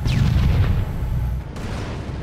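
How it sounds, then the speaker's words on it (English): A Scorpion tank cannon in Halo 2 booms loudly. A thick, rumbling low roar fades slightly and then cuts off abruptly midway, and a softer tail follows. "The cannon on Halo 2 Scorpion does feel noticeably less powerful compared to CE's. The sound of the cannon is tamer"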